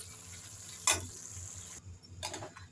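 Tomato chutney ingredients sauté in a pan, giving a faint, steady sizzle with a sharp clink or stir near the start and another shortly before the end. No one speaks.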